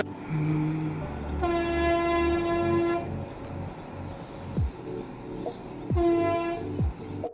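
A train rumbles past with two long, loud horn blasts, the second coming after a brief pause, over steady rolling noise.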